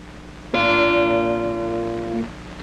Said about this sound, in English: Whereas down near the bridge, we get an extremely sharp sound.